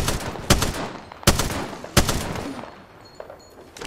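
Gunfire in Apex Legends, three loud, sharp shots spaced about three-quarters of a second apart, followed by fainter reload clicks and clatter, with no voices.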